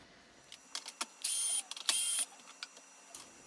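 A tower fan with a worn bushing suddenly squeals in two sustained high-pitched bursts of about half a second each, between scattered clicks and light mechanical ticks, fairly close and with no talking.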